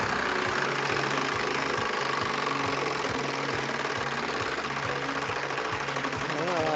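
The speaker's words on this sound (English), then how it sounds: "All right, you ready to spin this thing?" Prize wheel spun during a Big Brother veto competition, giving off a steady, rapid train of loud ticking clicks as it turns, with voices talking over it.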